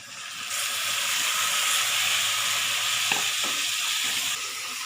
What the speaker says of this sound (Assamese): মাংসখিনি মই প্ৰায় 10 মিনিটমান সময় ভাজি ললো